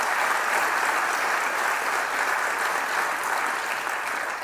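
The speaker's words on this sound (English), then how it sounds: "So could we please give them a round of applause?" A seated audience at a Knox County mayoral budget presentation breaks into steady, sustained applause, a dense wash of many hands clapping evenly from start to finish with no voices on top.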